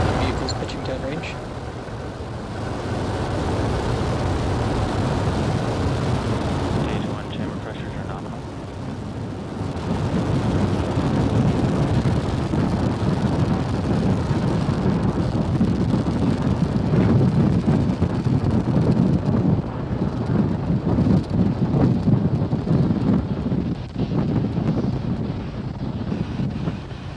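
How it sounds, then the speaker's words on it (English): A SpaceX Falcon 9 lifts off from Pad 39A at Kennedy Space Center with a long, roaring, crackling rumble heard from a distance. It swells and holds under heavy wind buffeting on the microphone, and a voice talks over it. "Falcon 9 has successfully lifted off from Pad 39A at Kennedy Space Center"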